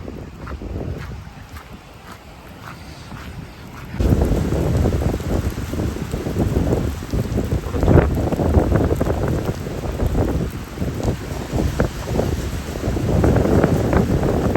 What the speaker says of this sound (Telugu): ఎప్పుడో రేర్గా పడతాయి ఇలాంటి వర్షాలు ఇంత స్ట్రాంగ్గా, ఇంత గట్టిగా